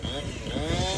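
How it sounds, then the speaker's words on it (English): Chainsaw running outdoors at night while trespassers cut down a tree in Panama, a steady snarling engine drone filling the whole second, loud and continuous with no pauses. "there's a chainsaw running outside right now"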